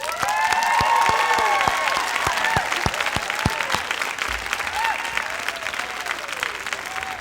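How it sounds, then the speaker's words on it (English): Loud, proud round of applause for graduates at an Oregon Tech college commencement ceremony, a dense, steady clapping from a large crowd that carries through the whole stretch. "give a loud, proud round of applause for all of our graduates"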